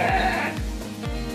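Sheep bleat repeatedly while being sorted as sacrificial livestock for Eid al-Adha, three loud, close wavering calls with falling tails, one after another, and no talk.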